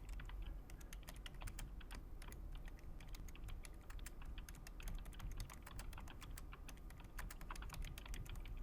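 Steady, fast typing of PHP code on a computer keyboard, close and continuous with dense clicking keystrokes and no speech.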